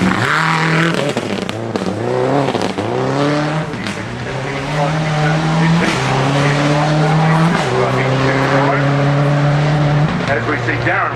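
Darren Winters' Subaru WRX rally car slides sideways on a gravel stage at the 2006 Rally of South Australia. The loud engine revs up and down through repeated gear changes while tyres scrabble, and an excited commentator talks over it.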